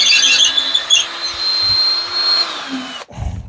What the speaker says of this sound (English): So now we got our hole drilled.